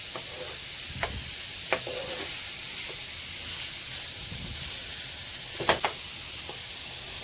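A pound of ground beef browns in a pan with a continuous close sizzle and hiss, broken by a few light scrapes and clicks, with no talking.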